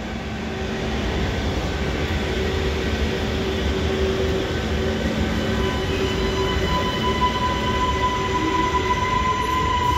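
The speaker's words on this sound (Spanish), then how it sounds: "Ahí viene uno de los trenes." A Lima Metro Line 1 train pulls into Pumacahua station in autumn, a steady loud rumble of wheels and carriages with faint squeal tones, continuous throughout with no talk.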